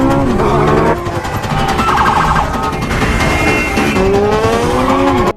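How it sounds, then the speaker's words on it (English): A motorcycle slides and skids in a film chase scene, a loud sustained tire squeal with sweeping pitch over engine roar and dramatic music, ending abruptly. "But the motorcycle slides."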